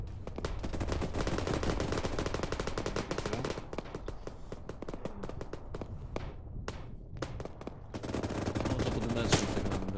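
Automatic gunfire fills an ArmA 3 firefight with dense, rapid bursts that run almost without pause, ease slightly midway, then resume heavily.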